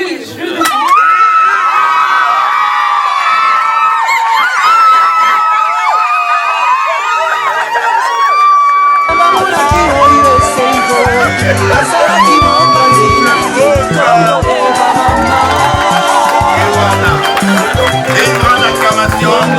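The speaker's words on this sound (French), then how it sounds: "Une grande acclamation." Guests at an engagement party raise a loud cheer, shouting and whooping voices close by over a noisy, busy crowd, with bangs and clatter mixed in and an abrupt jump in intensity partway through.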